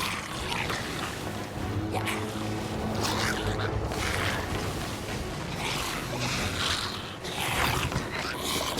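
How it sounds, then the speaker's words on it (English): A wooden pirate ship creaks and groans on the open sea in Sea of Thieves, with a dense wash of waves and wind around the hull, steady and fairly loud throughout with no clear talk. "I hear our boat creaking through your game volume."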